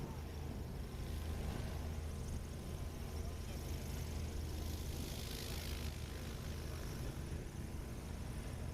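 A STOL aircraft's propeller engine drones steadily through a takeoff run into a crosswind at a competition airpark, a continuous mid-distance roar with broad wind-like noise and no speech.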